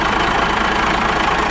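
A 1998 truck engine idles in a steady, even rumble at close range, running smoothly with no other sounds.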